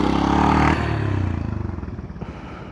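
Heavily loaded motorcycle on an off-road track, its engine labouring with a rough, pulsing drone and a rear-tyre skid scraping briefly before the note drops, close by and alone.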